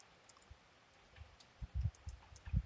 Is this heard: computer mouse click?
yes